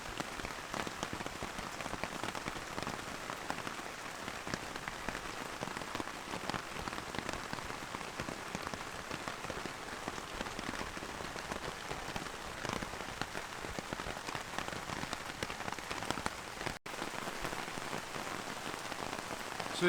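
Steady rain drums on a rooftop tent and its awning while camping, a dense, even patter that continues without pause at close range with no talking.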